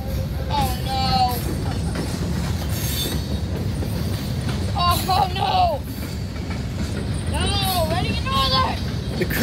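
A freight train rumbles past nearby with steady rolling noise and clacking wheels, while high wheel squeals and a shrill voice break through a few times.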